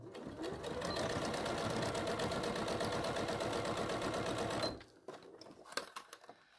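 A sewing machine stitches a pocket into an envelope-style zipper bag, running as a fast, steady mechanical whir for several seconds before stopping, followed by a few scattered clicks and handling noises.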